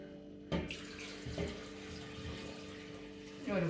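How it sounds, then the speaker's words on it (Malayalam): Water is poured into a pot of rice being washed by hand, making a steady close splashing rush with a few sharper sloshes at the start and end. "വെള്ളം ഒഴിക്കും."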